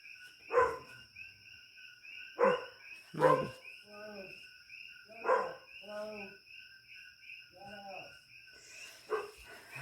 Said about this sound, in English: My dog is still going off like there's no tomorrow